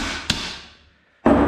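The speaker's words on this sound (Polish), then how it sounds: "Odkręca się tę nakrętkę z jednej strony i wybija się pin w tym kierunku." A single sharp strike while knocking the crank cotter pin out of a children's bicycle, with no hammer to hand, then a short decay and a louder burst of clatter at the end.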